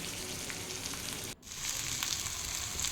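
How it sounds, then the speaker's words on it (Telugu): Chicken leg pieces frying gently over a low flame, a steady close sizzle with a brief dropout near the middle before the crackling resumes slightly louder. "ఇలాగా సిమ్లో వేయించుకోండి."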